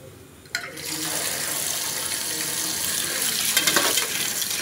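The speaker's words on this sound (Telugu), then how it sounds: "ముందుగా మనం తీసుకున్న మష్రూమ్ని ఒకసారి నార్మల్ వాటర్తో వాష్ చేసుకుందాం గైస్" Mushrooms are washed under a running kitchen tap, a steady broad rush of water that starts abruptly after a brief quiet moment and continues close and fairly loud, with slight splashing changes as the mushrooms are handled.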